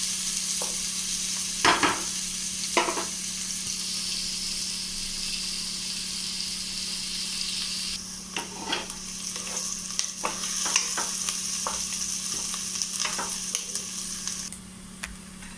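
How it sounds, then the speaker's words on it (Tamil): Onions fry in oil for a vegetable biryani until golden, giving off a steady, even sizzle beneath a low hum. Scattered scrapes and taps of a stirring spoon come through, and the crackle grows brighter partway through. "அப்புறம் வெங்காயத்தை போட்டுக்கணும். நல்லா பொன்னிறமாக கண்டிப்பாக வச்சுக்கணும்."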